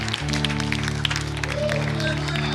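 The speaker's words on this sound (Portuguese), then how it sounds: "Você pode dar uma salva de palmas por isso?" Church congregation clapping during a sermon, a brief steady patter of hands under sustained tonal hum, moderately close.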